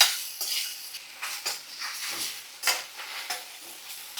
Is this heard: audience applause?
no